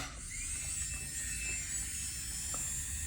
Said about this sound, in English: Get my electric file, change to the carbide tool,